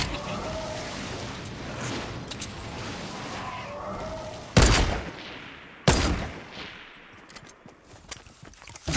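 Rapid bursts of video-game gunfire and automatic weapons in a Halloween shooter match, a dense rattling fusillade throughout with two sharp, loud shots standing out near the middle, no talk.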